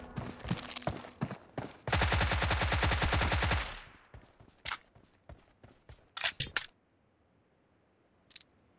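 Gunfire in the mobile game PUBG Mobile: a sustained automatic burst followed by scattered single shots and clicks, loud and close, then quiet.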